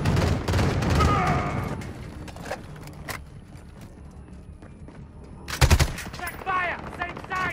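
A gunship's gunfire sweep in Call of Duty Modern Warfare, heard as rapid mechanical bursts of heavy fire with a sharp loud volley near the end, mixed with radio voices and battle noise.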